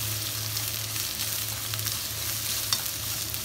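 Onions for yaki udon fry lightly in a pan, giving a constant close hiss with faint crackles and a low hum underneath, no voices.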